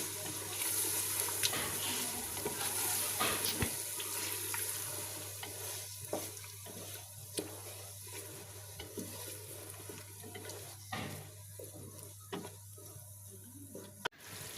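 Half a kilo of potatoes frying in spice masala, a moderate sizzle with intermittent scraping and stirring knocks, close by, under a low steady hum.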